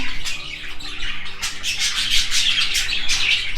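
Pet birds in a home bird room squawk and chirp in a busy, close chorus of harsh, repeated calls with rustling underneath, no voices present.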